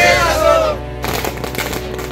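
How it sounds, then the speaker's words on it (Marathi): Firecrackers set off in celebration by contractors outside an anti-corruption bureau office: after a brief whistling tone, a dense run of sharp crackling pops and bangs follows, loud and continuous. "कंत्राटदारांनी ACB कार्यालयासमोर फटाके फोडत जल्लोष केलाय."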